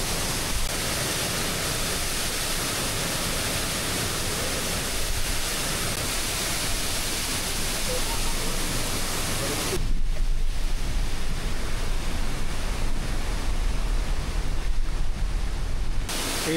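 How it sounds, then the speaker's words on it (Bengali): A waterfall and rushing water beside a road in Meghalaya, a loud, continuous broadband roar that holds steady throughout and swells slightly near the end, with no talking. "দেখুন এই ফলসটাও দেখুন। আর এই রাস্তায় জল থেকে আসছে দেখুন।"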